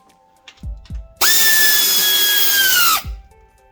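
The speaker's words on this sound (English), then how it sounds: "We're tightening up the valve cover." A power tool whirs loudly in one steady burst of about two seconds while tightening the valve cover bolts on a Honda Odyssey VTEC engine. A few light knocks come just before it and one right after.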